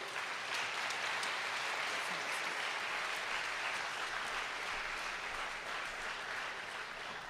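Sustained applause from a convocation audience at a university graduation ceremony, dense and steady clapping filling the hall without a break, fairly loud and even throughout.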